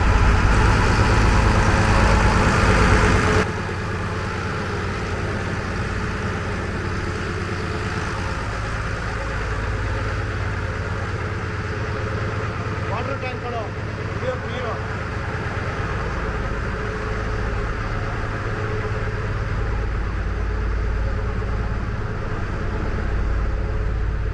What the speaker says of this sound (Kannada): ಈ ಲಾಂಚ್ದು ಇಂಜಿನ್ ರೂಮ್ ಹೆಂಗಿರುತ್ತೆ ನೋಡಿ ತೋರಿಸ್ತೀನಿ ಬನ್ನಿ ಇವತ್ತು